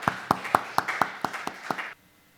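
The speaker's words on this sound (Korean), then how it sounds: "박수로 우리 모두 환영해 줍니다." A church congregation claps to welcome a preacher to the front, about nine sharp, evenly spaced claps in a quick rhythm over a soft wash of applause, then stopping abruptly into near silence.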